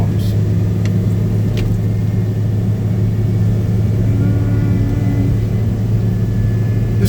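A John Deere tractor running a snow blower at an airfield rumbles with a steady, loud low drone and constant motor hum throughout, close by, with no change in pitch.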